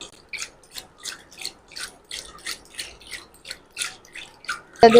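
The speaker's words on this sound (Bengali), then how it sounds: "এভাবে ঘুরাতে ঘুরাতে পরে আরও জল মিশাবো দেখবেন এইভাবে করতে করতে উপরে একদম মাখম মাখম হয়ে যাবে" Yogurt mixed with water is churned by hand into buttermilk, making close, rhythmic swishing strokes about twice a second, each a short rubbing burst with brief pauses between.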